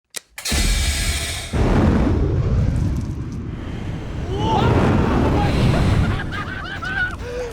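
A non-dairy creamer cannon fires a huge fireball: a sharp pop, then a deep roaring whoosh that swells and rumbles for several seconds, with faint honk-like squeals near the end.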